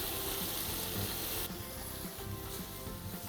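Paneer sizzles and fries in a pan with cumin powder, salt and black pepper, a steady close hiss with soft scraping from stirring throughout.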